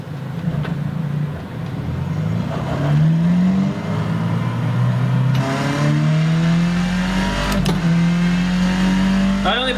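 Skip Barber open-wheel race car in a racing sim at Suzuka, engine droning steadily then rising through gears with repeated climbing pitch sweeps, loud and continuous with brief shift dips.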